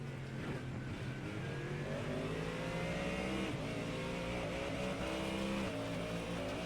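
Race car engine revving during an iRacing sim-racing replay: a loud, sustained motor roar whose rising and falling harmonics sweep steadily, with no voices over it.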